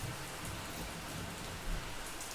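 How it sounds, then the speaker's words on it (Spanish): Heavy rain pours steadily in a horror story, with a faint low rumble of thunder rolling underneath the constant hiss. "En ese momento cayó un trueno muy fuerte"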